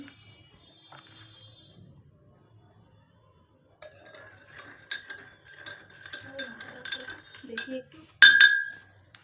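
Salted water being added to a glass during a home science experiment, heard as clinks and small splashy pours that build over several seconds to a loud clink near the end, with quiet speech earlier.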